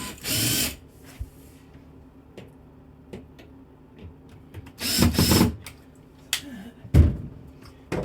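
Screws on pantry cabinet doors are tightened with a power driver, giving short whirring bursts between quiet gaps, with light knocks and clicks of the hardware in between.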